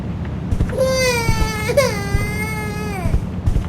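Baby crying in the horror video game The Baby In Yellow, a loud sustained wail with a rising then falling cry, close and prominent over faint background sounds.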